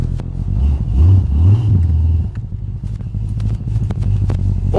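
A car's engine revs hard and rumbles loud and close, rising and falling in deep throaty surges before settling into a rough idle with clattering mechanical ticks.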